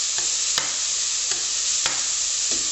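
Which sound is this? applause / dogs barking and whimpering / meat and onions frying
meat and onions frying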